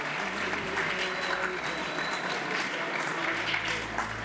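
Audience applause at a school's 116th anniversary homecoming leadership talk, a full, steady round of clapping from a large crowd in a hall, loud and continuous, with a faint murmur of voices beneath.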